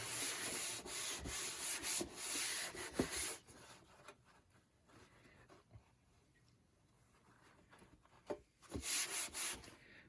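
Scrubbing and rubbing on a grimy yard-sale IBM computer, a steady close abrasive swish in bursts at the start and end, with a quieter stretch in the middle.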